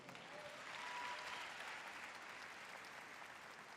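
A congregation gives a round of applause to God during a Spanish-language spiritual talk, a faint, sustained wash of clapping that swells early and tapers off gradually.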